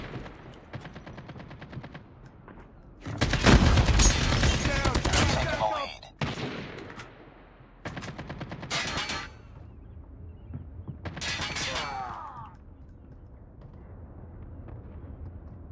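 AK-47 automatic fire and explosions in the Call of Duty Mobile Frontline mode, with loud sustained bursts separated by shorter volleys and quieter gaps between them.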